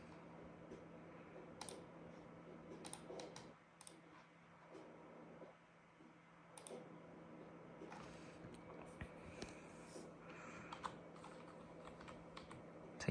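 Fingers tap on a computer keyboard during a Windows XP 64-bit Itanium setup, a quiet, steady run of small clicks in bursts with short pauses, close by and with no voices.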